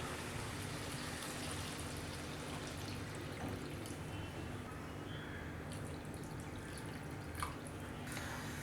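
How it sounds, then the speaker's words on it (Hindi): Water poured into a cooking pot of simmering mutton trotter curry with fried onions, a steady close pouring and splashing with faint drips, no talking. "हम अब इसमें पानी डाल देंगे।"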